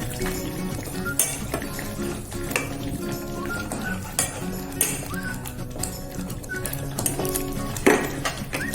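Tomatoes frying in oil in a pan for a peanut curry gravy, a continuous close sizzle broken by scraping and clinking as a spoon stirs against the pan.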